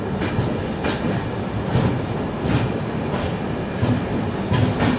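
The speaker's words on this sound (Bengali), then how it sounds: "কামাখ্যা থেকে আমাদের ট্রেন ছেড়ে দিল একদম অন টাইম" The Kanchanjungha Express pulls out of Kamakhya station, its wheels rumbling with a steady clickety-clack rhythm and repeated periodic thumps over rail joints, close and continuous.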